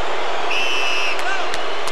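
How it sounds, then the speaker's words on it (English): A boxing arena crowd roars and boos at a picture of Lennox Lewis on the Jumbotron: a thick, continuous wash of massed voices with a few whistles piercing through. "Crowd here responding to the picture of Lennox on the Jumbotron"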